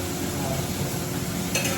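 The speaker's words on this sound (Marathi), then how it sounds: "हो त्याला सॉटे कर. आणि ह्याला ब्राऊन होईपर्यंत." Food sizzles as it is sautéed and stirred in a pan until brown: a continuous, close crackle of frying with soft stirring scrapes and no talking.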